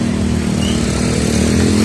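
A loud motorcycle engine drones steadily close by, a constant buzzing rumble with no pause, amid street traffic in San Gil, Colombia.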